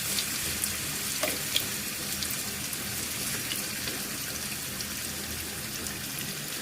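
Chicken noodles frying in hot oil in a pan over a low flame give off a steady, dense sizzle and crackle with no talk.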